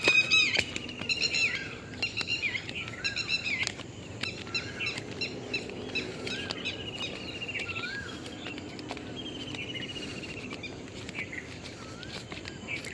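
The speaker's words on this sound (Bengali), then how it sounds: "পাখির আওয়াজ সকালে" Several birds chirp and sing in repeated bright calls outdoors on a village morning among ponds, with a faint insect drone and soft background noise throughout.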